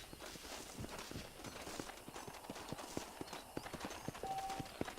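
A horse in Red Dead Redemption walking on its hooves, giving a steady, fairly close clip-clop of hoofbeats in an even rhythm throughout, with light ambient noise behind.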